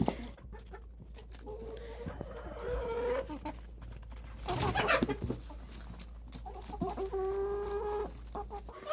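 Backyard chickens cluck and murmur close by while pecking at feed, with soft repeated calls, bursts of scratching and pecking, and a few drawn-out tonal clucks toward the end.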